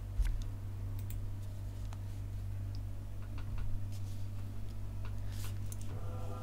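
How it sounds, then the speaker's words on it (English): Scattered light clicks from typing on a computer keyboard tick along irregularly for several seconds, near and fairly soft, over a steady low background hum. "You're having fun typing."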